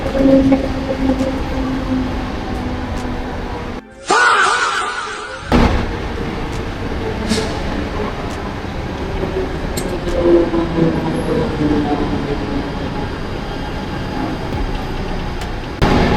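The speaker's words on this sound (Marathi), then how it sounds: "पाठीमागं तुम्हाला ओरण लाईनला जाण्यासाठी ट्रेन येते." A Mumbai local train at Nerul station rumbles and clatters steadily nearby, briefly cut out for a second or two before the rolling rail noise resumes.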